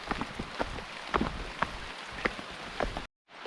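Rain falls steadily on a village hill path, a soft continuous patter with scattered louder drops, fairly close, before cutting off abruptly at the end.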